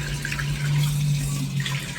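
Tap water runs steadily into a sink while mussels are rinsed clean before cooking, a continuous close splashing stream with a low hum beneath it and no talking.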